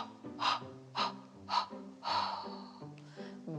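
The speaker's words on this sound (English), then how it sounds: "Breathe in." A child takes deep breaths during a yoga breathing exercise. Four or five audible inhales come at a steady rhythm, each a soft airy rush, close to the mic against a faint tonal background.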